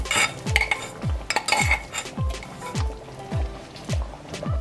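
Metal spoon scraping and clinking rhythmically against a pot as onion tempering is stirred into a fish curry, steady repeated strokes close up, with a faint sizzle underneath.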